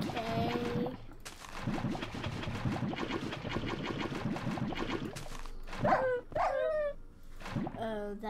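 A dog in a video game whimpers and yelps in a few high, wavering cries near the end, over a busy game soundtrack with mechanical rattling noise throughout.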